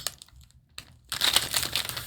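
A plastic bag of Lego crinkles up close in short rustling bursts, then louder continuous crackling as it is handled, with no voices.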